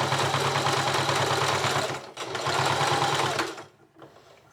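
A sewing machine stitches a pee pad for guinea pigs in fast, close, rhythmic bursts, pausing briefly, running again, then stopping with a few faint clicks.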